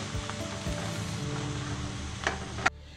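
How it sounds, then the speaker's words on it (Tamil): Mixed vegetables and peas sauté in a pan with a quiet, steady sizzle, ending with a couple of brief sharp clinks from stirring. "எல்லாத்தையும் நல்லா மிக்ஸ் பண்ணி விட்டுறலாம்."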